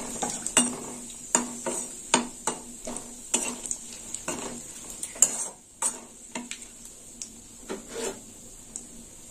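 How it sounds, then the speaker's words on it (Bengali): A tempering of cumin, bay leaf and dried chilli frying in a pan, with a soft sizzle under repeated clinks and scrapes of a utensil stirring at an irregular rhythm, close and without talk. "ফোড়নটা একটু ভাজা হোক।"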